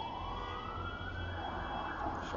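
An ambulance siren wails steadily on the street, a loud continuous tone that rises slightly in pitch, heard alone without speech.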